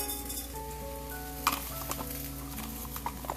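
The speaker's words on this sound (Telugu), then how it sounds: "సో నేను ఇందులో తాలింపు గింజలు వేసుకుంటున్నాను." Mustard seeds hit hot oil for a rasam tempering, giving a continuous sizzle with scattered sharp crackles and pops, one louder burst midway, all close and clear.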